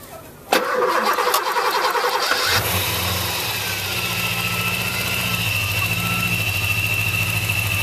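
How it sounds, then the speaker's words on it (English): A Porsche 928 engine cranks briefly and fires up, then settles into a steady, throbbing idle that holds loud and close until the end. "We're just about to fire up, Vince, so let's have a listen."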